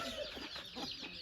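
A chicken clucks in short repeated bursts on a farm during Sankranti festivities, close by, with faint background noise.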